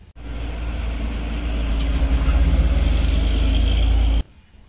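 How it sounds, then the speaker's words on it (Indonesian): A large expedition delivery truck rumbles past close by, its loud, steady engine drone building and holding for about four seconds before cutting off abruptly. "ini truk pengantar ekspedisi"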